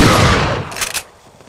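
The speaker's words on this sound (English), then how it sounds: "I think I'm gonna use a shotgun shell here." A single loud shotgun blast from Resident Evil 4, sharp and close, with a short rattling tail that dies away within a second.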